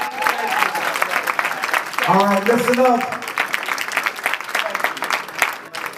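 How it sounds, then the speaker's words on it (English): Audience applause at a health and nutrition talk in Philadelphia, a dense burst of clapping from the crowd lasting a few seconds while a voice speaks over it. "All right, give another round of applause"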